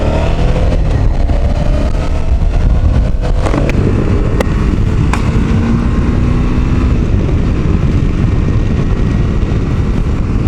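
A Suzuki V-Strom 650 XT motorcycle engine revs loudly and continuously while riding toward a highway, with a steady roar, rising pitch sweeps and heavy wind rush throughout.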